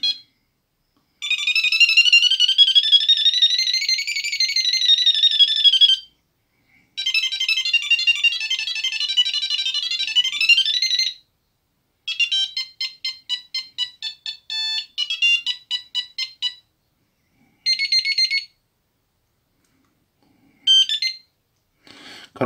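A Bosch 509 Dual mobile phone plays loud electronic ringtone melodies, with several tunes in separate bursts broken by short silences.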